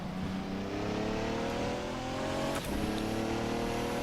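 Radical RXC GT3 race car in rFactor 2 holds a steady, loud engine drone at high revs through a long gear, with a brief dip like a quick shift midway before pulling on evenly.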